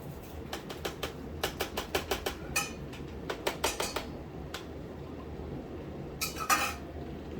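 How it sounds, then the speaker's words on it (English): A metal spoon rakes soaked almonds into a strainer, giving a run of quick, sharp clinks and scrapes in irregular bursts with short pauses, close and moderately loud with no talk. "Now you're going to just rake your almonds over into this strainer."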